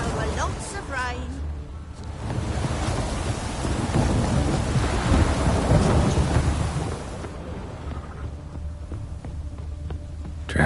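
Heavy rain with rolling thunder in The Witcher 3, a steady dense downpour that swells in the middle and eases toward the end, with a voice speaking over it near the start.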